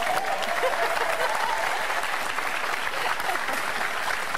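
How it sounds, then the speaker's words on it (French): A TV game show studio audience breaks into steady, dense applause for a contestant, loud and close, sustained without a pause for the full stretch. "Carlo, Fanny, Thibaut et vos applaudissements pour Robert, s'il vous plaît"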